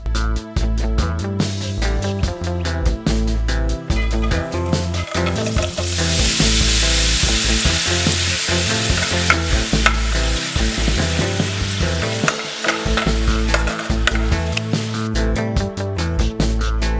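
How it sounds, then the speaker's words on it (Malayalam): Chopped pappadam fries in coconut oil, a loud continuous bubbling sizzle close by, with rapid rhythmic scraping and clatter as the pieces are tossed in the pan. "പപ്പടം ചെറുതായി അരിഞ്ഞെടുത്ത് വെളിച്ചെണ്ണയിൽ വറുത്തെടുക്കുക"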